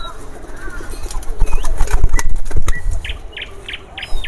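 Imported pigeons from Pakistan give soft coos and chirps with a burst of wing flapping, close by, while people talk over them and a few sharp repeated calls follow near the end.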